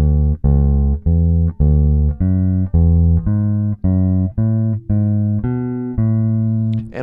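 Deep bass guitar notes plucked one after another in a steady rising scale sequence in thirds of about a dozen notes, clear and close with no voices.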